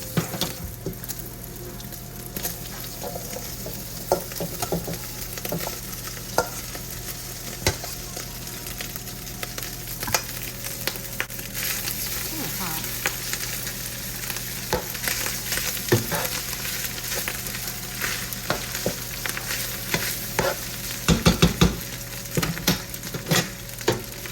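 White rice is stir-fried with crispy bacon in a hot pan, giving a steady close sizzle broken by frequent scraping and clinking stirring strokes, with no talk.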